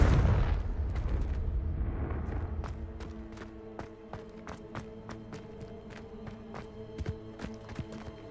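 A deep rumbling blast from the Confringo blasting spell in Hogwarts Legacy booms loudly at the start and slowly fades, followed by a series of sharp crackling clicks and scattered impacts spaced out over several seconds.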